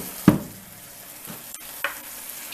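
Frozen spinach drops into a pan of boiled potatoes, giving two short sizzling thumps with stirring scrapes between them over a faint background hiss.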